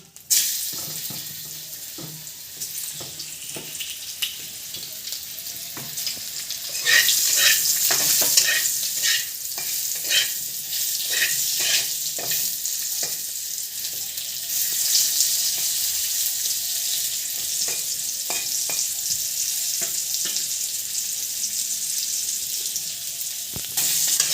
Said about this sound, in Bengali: এবারে পেঁপেগুলো ভেজে নেবো